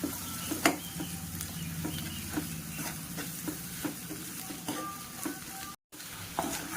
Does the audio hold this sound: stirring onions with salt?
yes